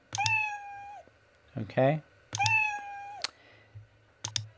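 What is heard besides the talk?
cat meow sound effect played in Scratch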